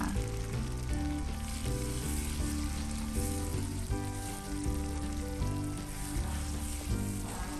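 Tomatoes frying in hot oil in a pan, a dense, continuous crackling sizzle at moderate level, close by and steady with no voice over it.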